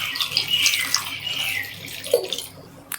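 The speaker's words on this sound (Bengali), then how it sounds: "এখন দিয়ে দেব জল" Water pours into a wok holding potatoes and four washed duck eggs for a village-style curry, a steady splashing gush that runs for a few seconds and then trails off.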